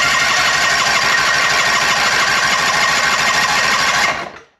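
A Mercury 25xd outboard engine cranks over continuously during a compression test, a fast rhythmic chugging whir that runs loud and steady for about four seconds, then cuts off.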